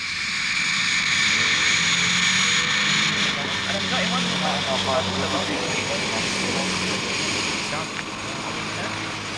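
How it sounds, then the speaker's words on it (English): A private jet's engines drone steadily and loudly throughout, a broad continuous roar with a sustained high whine, while faint indistinct sounds flicker underneath. "he commutes in his own private jet"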